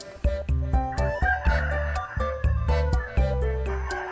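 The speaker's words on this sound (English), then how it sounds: "It's a rooster" A toy rooster crowing in a repeated cock-a-doodle-doo sound effect, several loud close crows and clucks in quick succession with no talk.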